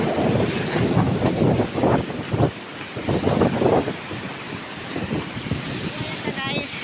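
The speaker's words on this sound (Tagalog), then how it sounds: "Ang lalakas ng alon." Strong waves surge against the rocks at a blue lagoon in Cabatuan, Northern Samar, making a continuous loud roar of surf mixed with heavy wind buffeting on the microphone.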